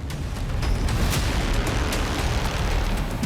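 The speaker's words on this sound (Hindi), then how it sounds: "भीषण विस्फोट से आग की चिंगारी भड़क उठी।" A heavy, sustained roar of Iranian missile blasts with sharp crackling bursts scattered throughout, loud and continuous with no voices.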